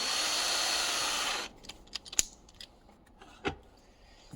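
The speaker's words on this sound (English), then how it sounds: "we're going to chuck it up in the drill here, and we're going to get these drilled out" A power drill whirs steadily for about a second and a half drilling out fastener heads, then stops, leaving quiet clicks and faint handling noises.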